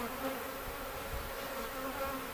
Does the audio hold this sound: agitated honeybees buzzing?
yes